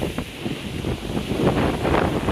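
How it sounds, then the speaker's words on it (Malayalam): Rough Arabian Sea waves surge onto a storm-battered shore at Chavakkad during the rainy season, a steady close roar of surf mixed with gusting wind rumble on the microphone. "വെള്ളം അടിച്ചു കയറുകയാണ്"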